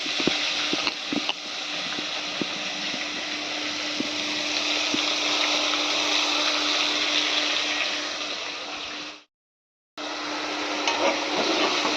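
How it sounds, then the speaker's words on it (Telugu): Onion, ginger and garlic paste hits a hot frying pan and sizzles loudly and steadily, with a short moment of silence near the end before the frying resumes. "ఇప్పుడు ఉల్లిపాయలు వేసేద్దాం. అల్లం వెల్లుల్లి ఉల్లిపాయ పేస్ట్."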